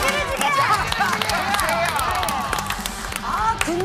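A studio audience and cast on a Korean variety show clap in a lively burst mixed with crowd chatter, laughter and overlapping voices.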